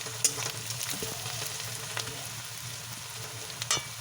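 Chicken pieces frying in a small amount of oil for a yogurt chicken dish, a steady close sizzle with occasional sharper pops and crackles throughout.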